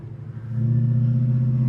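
A 1970 Chevrolet Chevelle's engine hums steadily as it drives, a close, low and smooth rumble that grows slightly louder after the first half second and holds evenly.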